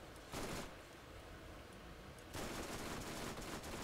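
SMG fire in the video game Borderlands: two sustained bursts of rapid automatic shots, one short and one longer, loud and dense, with no voices.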